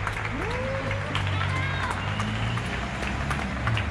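Street applause for health workers in Getxo, a steady wash of clapping from neighbours with a low background hum and some voices mixed in, moderately loud and continuous.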